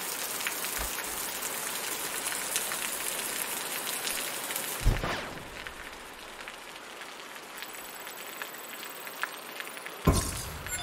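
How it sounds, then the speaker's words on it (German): Rain falls in the video game Osiris New Dawn, a steady wash of drops with a couple of sharp cracking bursts and faint synth tones, no voices over it. "Es regnet. Schön."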